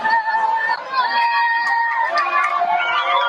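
A crowd in Khan Yunis in the Gaza Strip cheers and shouts as Red Cross vehicles carrying Israeli hostages pass, with high excited voices and whistles blending into a continuous near roar.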